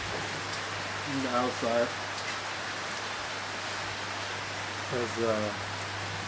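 Steady rain falls outdoors around a coconut-wood decked building at a marine research site, a constant broadband wash of drops on surfaces throughout, with someone speaking briefly twice over it.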